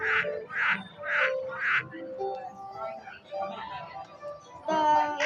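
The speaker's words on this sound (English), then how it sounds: "there's a frog." A cartoonish frog croaks in a quick series of four bursts in the game Animals 360, followed by electronic game chimes and tones, fairly soft and alone.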